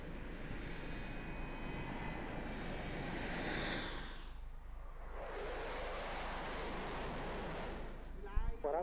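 A fixed-wing aircraft rolls down a runway for takeoff, a loud, steady broadband engine roar that dips briefly midway and then swells again to full power.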